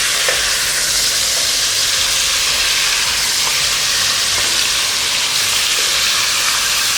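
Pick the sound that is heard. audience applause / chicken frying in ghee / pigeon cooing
chicken frying in ghee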